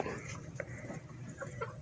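Faint, soft clucking from chickens nearby, a few short bursts over a quiet background, with low indistinct voices murmuring.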